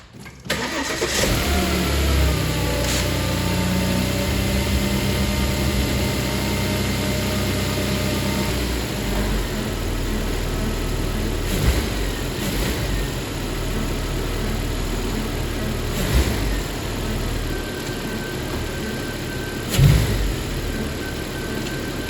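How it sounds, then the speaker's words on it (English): A Volvo XC90 engine cranks and catches, then settles into a smooth, steady idle heard up close, with a few faint clicks and knocks along the way. "now we can start the car and see how smooth it is"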